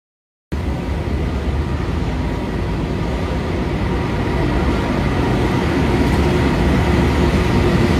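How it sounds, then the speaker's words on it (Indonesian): KA Bima passenger train arriving at a station on the Surabaya Gubeng route, a steady loud rumble of wheels and rolling stock that builds slightly over several seconds, with no talk. "kita tunggu nanti kedatangan kereta api Bima dari stasiun Surabaya Gubeng"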